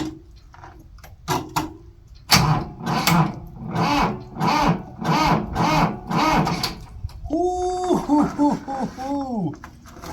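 A cold Ultimate 800 rock crawler's starter cranks slowly on a weak cold battery and fails to start, making about eight labored, rhythmic turns up close after a couple of clicks. A voice follows briefly at the end.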